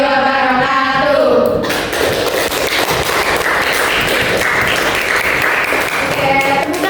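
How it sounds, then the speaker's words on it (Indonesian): A classroom audience at a teacher-training lesson presentation bursts into applause after a brief voice, the dense clapping continuing steadily to the end. "tepuk tangan"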